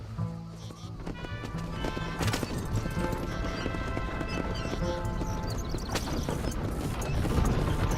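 Horses gallop in the Mexico setting of the video game Red Dead Redemption, their hooves pounding in a quick, rolling clip-clop with a brief whinny, set against a busy backdrop of game sound.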